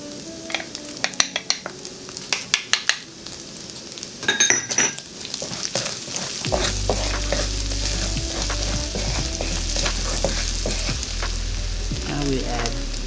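Minced garlic hits hot oil in a wok with a loud, steady sizzle that fills the second half, preceded by sharp clinks of a metal utensil against the pan.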